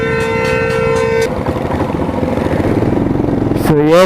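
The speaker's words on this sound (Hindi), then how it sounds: "So हॉर्न खुद से खुद ही बज रहा है" A faulty vehicle horn blares by itself in a long steady tone, then cuts off under a rumbling motorcycle engine, before another warbling horn honk sounds near the end.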